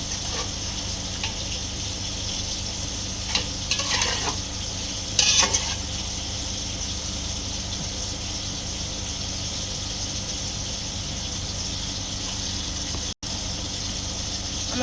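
A bottle gourd and shrimp curry with a little added water cooks in a pan, giving a constant low bubbling hiss, with a few soft clinks and scrapes from stirring near the middle and no voices.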